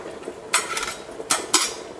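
A ladle scoops pickled beets during canning, giving three sharp metallic clinks and scrapes against a pot, close by, with quiet handling between them.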